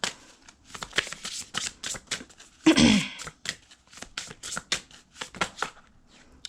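Tarot cards being shuffled by hand, a quick run of crisp riffling flutters and taps close up, with a louder burst partway through and brief pauses between.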